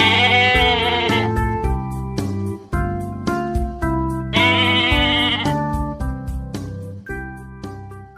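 A goat bleating over and over in short, loud, wavering cries in a steady rhythm, with musical accompaniment behind it.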